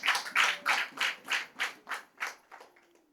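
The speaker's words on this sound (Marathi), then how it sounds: "टाळ्या वाजवून देवाला धन्यवाद द्या." A church congregation claps along in praise, about nine steady, evenly spaced claps that gradually fade toward the end, with no talking over them.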